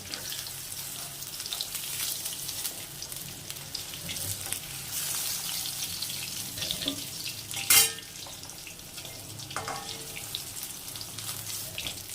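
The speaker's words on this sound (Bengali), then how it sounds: "চলো বেগুনটা হালকা করে ভেজে নিই" Eggplant slices fry in a pan with a constant soft sizzle and hiss, broken by one brief sharp clatter midway and a few light knocks.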